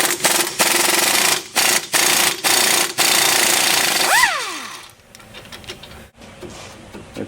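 An impact wrench rattles in loud, close bursts, several short stuttering runs with gaps, as bolts come off a car wheel bearing assembly, followed by a quick whine and quieter shop noise.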